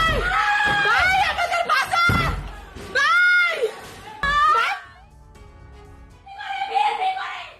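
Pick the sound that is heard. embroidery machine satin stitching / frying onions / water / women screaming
women screaming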